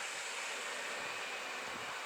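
A PKP Intercity EP09 electric locomotive hauls a train past a Warsaw line, giving a steady, even broadband rush of wheels and air that holds at a moderate level throughout, with no voices.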